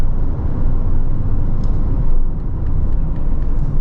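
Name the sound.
GWM Haval H9 engine while downshifting at 80 km/h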